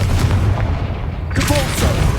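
A Confringo explosion spell in Hogwarts Legacy, a dense booming blast over a continuous rumbling game soundscape, loud and close.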